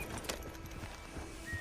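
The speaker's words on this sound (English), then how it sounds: "Get on the horse there." Horse hooves clip-clopping in the video game Red Dead Redemption 2, a faint, steady rhythm of soft hoofbeats heard alone at low level.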